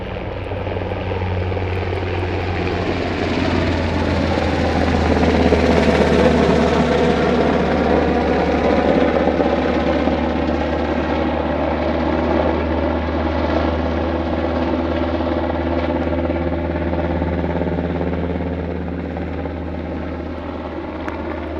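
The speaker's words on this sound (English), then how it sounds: "I absolutely totally just got checked out by a black helicopter." A black helicopter flies overhead at night on a desert highway, its loud, steady rotor thrum swelling as it passes close and fading slightly as it moves away.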